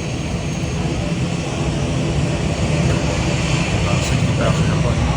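A roaring passenger airplane of about 60 seats at a Mindanao airport before a flight to Cebu, its engine drone steady and loud, with people talking underneath.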